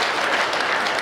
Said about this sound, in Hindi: जरा एक बार दोनों हाथों को उठाएं और जोरदार तालियां बजाकर